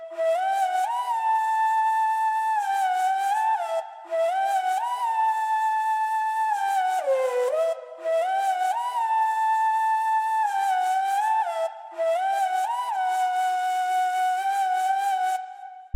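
A simple melodic flute pattern in a trap beat, played as four repeating phrases with short gaps, wobbling slightly in pitch, clear and alone.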